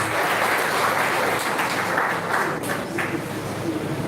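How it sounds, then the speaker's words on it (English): Sustained clapping from a seminar audience at an Ogun police command security gathering, dense and even for several seconds, fairly loud and close, thinning slightly toward the end with no talk on top. "Please give them a big round of applause."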